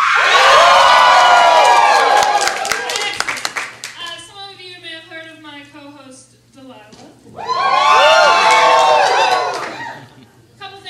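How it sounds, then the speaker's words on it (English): A burlesque revue audience at a small gallery venue claps and cheers loudly in two strong bursts, with a stretch of speech between them. "Typically when I pause, you should applaud very loudly."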